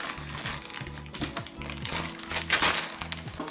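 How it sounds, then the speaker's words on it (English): Plastic packaging bag crinkles and crumples as an ultralight backpacking tent is pulled out, bursts of close, loud rustling in irregular rhythm with a faint mechanical rattle beneath. "let me get it out of this plastic bag"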